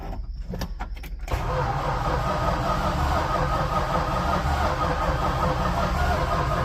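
A Farmall H tractor cranks on a jump pack after its choke is pulled, with a few clicks and knocks and then a sudden steady, loud engine roar that continues to the end.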